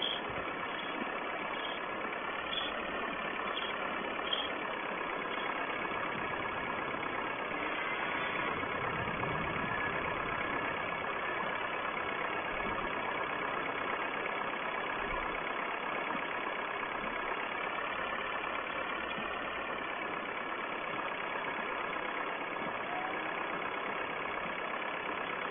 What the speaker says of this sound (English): Now it's a cattle feeding tractor.